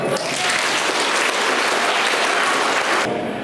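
Audience applause at a communal Satyanarayana puja held in a village, a loud, dense burst of many hands clapping steadily for about three seconds before cutting off abruptly.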